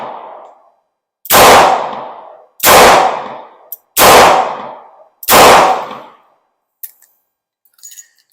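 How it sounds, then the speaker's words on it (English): Four loud .38 Special revolver shots fired at a shooting range, evenly spaced about a second and a half apart, each with a sharp crack and short decaying tail, followed by a few faint clinks. "Let's take a couple more shots here."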